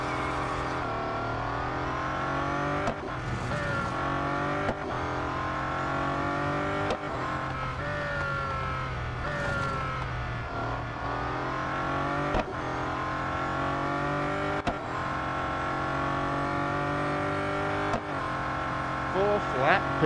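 Bugatti Centodieci hypercar racing in Real Racing 3, its engine note climbing and dropping through repeated gear shifts at steady loudness, with a commentator talking over it throughout.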